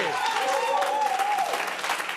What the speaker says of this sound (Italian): Applauso, dai, che vuoi?